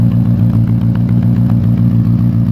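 Engine of a GAZ-69 on a test start running steadily at close range, a loud continuous low rumble with a fast, even pulsing beat and light mechanical clatter over it.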